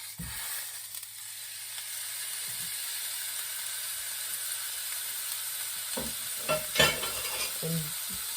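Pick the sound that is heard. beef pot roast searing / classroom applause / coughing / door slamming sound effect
beef pot roast searing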